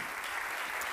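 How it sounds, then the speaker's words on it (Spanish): Brief burst of dense audience applause at a university anniversary closing ceremony in Gandia, a continuous wash of clapping with no gaps. "Un fuerte aplauso para Sarai Cerro"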